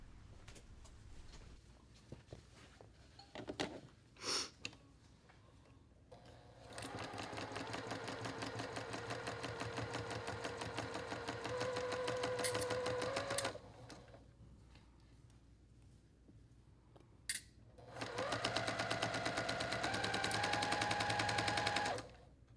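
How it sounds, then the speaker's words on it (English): A sewing machine runs down a quilt block seam in two long steady whirring stretches, its motor pitch rising slightly near the end of each run, with handling clicks and short pauses between. "And then I'm gonna sew down this seam."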